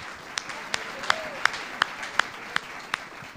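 Steady, evenly spaced claps at a church sermon, about three per second, sharp and somewhat distant over a faint background murmur.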